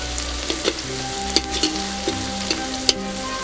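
Chillies fry in a hot pan for an egg dish, a close, dense sizzle broken by scraping stirs and sharp clicks of the spoon against the pan.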